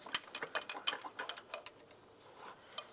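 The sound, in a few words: 13mm wrench loosening a stud on a Volkswagen Jetta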